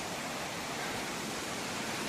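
A canyon waterfall pours as a steady, dense broadband rush of falling water, loud and unbroken throughout with no voices.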